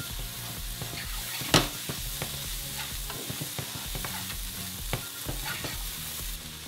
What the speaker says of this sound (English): we can also get in our kale or spinach, whatever you prefer. Toss that around for 30 seconds